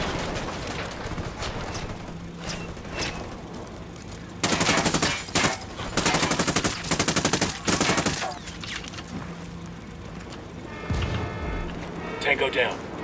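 Automatic gunfire in a Ghost Recon Wildlands co-op firefight, several loud bursts of rapid shots clustered mid-clip with a sharp blast near the end, between stretches of quieter background and voices talking.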